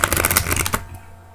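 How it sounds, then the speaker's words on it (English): A deck of playing cards is riffle-shuffled in a rapid, crisp flutter of snapping cards that lasts under a second and stops abruptly, leaving near silence. "I'm actually just going to shuffle it into the deck a tiny weeny bit."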